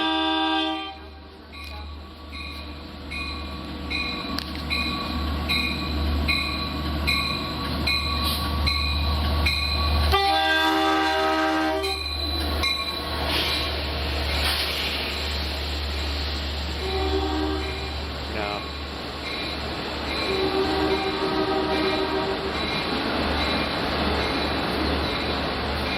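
A Long Island Rail Road train at Speonk station rumbles close by. Its horn sounds several times in sustained blasts, with heavy wheel and engine noise running throughout.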